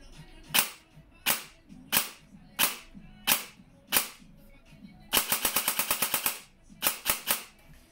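An E&L Platinum AK airsoft replica fires a string of sharp single shots, then a rapid automatic burst, then a few more single shots, all close and crisp against quiet.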